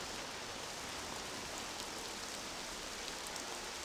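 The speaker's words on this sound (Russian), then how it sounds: "Ничего, кроме шляпы, не спасает нас от этого проливного мощного дождя." Heavy rain in Mafia: The City of Lost Heaven, a steady, dense downpour hissing evenly throughout at a moderate level, alone with no voices.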